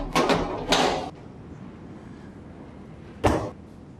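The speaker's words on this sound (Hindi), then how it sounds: "दरवाजा बंद करें।" An indoor door is pulled shut once with a sharp, short thud near the end, preceded by a couple of soft bumps or movement sounds in a quiet room.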